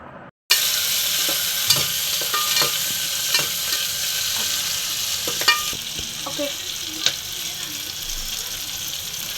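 Prawns frying in a pan for a prawn biryani, a continuous close sizzle with repeated scraping stirs and small clinks of the spoon against the pan.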